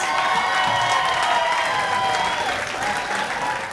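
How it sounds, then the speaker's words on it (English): An awards ceremony audience claps and applauds steadily, a dense wash of many hands with a few faint cheers mixed in. "I hope that you will join me in a round of applause"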